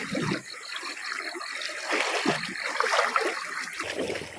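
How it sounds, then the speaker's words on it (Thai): Stream water flows steadily at a spot where hooks are being set for catfish, giving a continuous close, even rushing wash with small trickling splashes and no voices. "น้ำไหลก็เป็นแนวนี้นะครับ"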